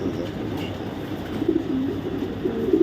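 Low, throaty cooing from a group of racing pigeons of foreign breeds, a continuous soft burbling that swells a little toward the end, with no talking.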